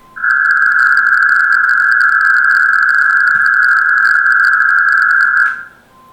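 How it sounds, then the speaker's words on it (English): Aurora digital radio modem running on Windows, giving a sustained pure electronic tone with faint buzzy overtones that holds steady for several seconds and then cuts off abruptly, loud and alone. "Aurora modem working"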